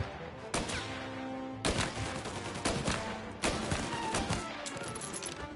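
Gunfire in Mafia: Definitive Edition comes as four separate bursts of shots with short gaps between them, fairly close and sharp, and no voices.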